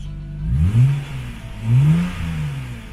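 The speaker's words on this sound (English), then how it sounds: "It does kind of sound like it changed the exhaust tone a little bit." A Lexus GS300 engine revs up twice from idle, its exhaust tone rising and falling in two smooth swells, close and fairly loud with no talk.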